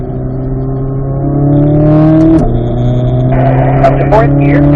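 A car on a race track accelerates out of a turn after riding all four tires over the curb. The close, loud engine drone rises in pitch as it builds revs, while a voice talks over it.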